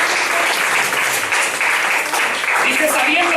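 Church congregation gives loud, sustained applause during a sermon, a thick wall of clapping from many hands close by, steady from start to finish with a voice faintly audible beneath it.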